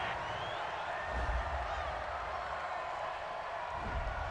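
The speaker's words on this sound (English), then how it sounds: "this crowd does not like that call" At a Miami Dolphins versus Buffalo Bills NFL game, a stadium crowd reacts to a penalty call on third down, a broad, steady roar of boos and murmuring from a large distant crowd, with a commentator's voice mixed in.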